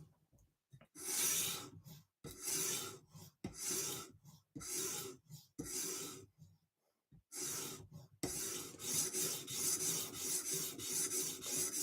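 Microtech Stitch knife blade being sharpened on UKSG stones, with rhythmic gritty scraping strokes in short repeated passes, then a quicker continuous series, close and fairly quiet.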